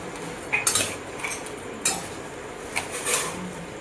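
A metal spoon mixes chana chatpati in a bowl, producing a few sharp clinks and scraping knocks against the dish in an uneven rhythm, close and fairly loud.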